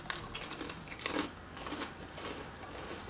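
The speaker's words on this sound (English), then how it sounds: "They're crunchy and sweet" Freeze-dried peaches are bitten and crunched up close, a few sharp crisp cracks followed by softer chewing crackles that fade out.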